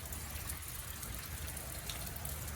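Rain falling outdoors as a continuous broadband hiss with scattered drop patter, steady and moderately loud, with no talking.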